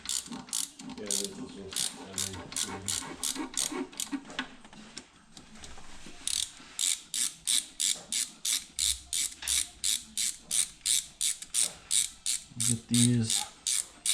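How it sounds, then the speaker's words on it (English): Short ratchet with a small swivel running bolts down to finger tight during head gasket and timing cover work on a 2004 Ford Escape 3.0 V6: rapid, regular clicking bursts, close and steady, with brief talk early on. "Look at that short little ratchet too. There's a little shorty swivel."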